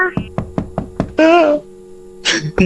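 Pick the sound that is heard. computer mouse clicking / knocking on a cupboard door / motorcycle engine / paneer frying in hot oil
knocking on a cupboard door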